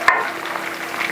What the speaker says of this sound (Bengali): কাঁচা লঙ্কাটা একটু তেলে ভাজা হয়ে গেছে, এবার এরই মধ্যে মাছের মাথাটা দিয়ে দেবো।